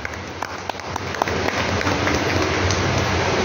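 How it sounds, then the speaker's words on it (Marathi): A dense wash of audience applause for Group Captain Abhijeet Khedkar at a public interview event, with many hands clapping steadily and evenly for the whole stretch and no voices over it. "या अपवादासाठी आपण टाळ्या वाजवूया"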